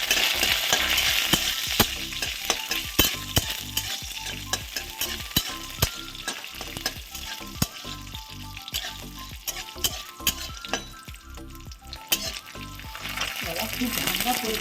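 Bori, small lentil dumplings, frying in oil make a dense, continuous sizzle, broken by frequent sharp clicks and scrapes of stirring close by, with no talking.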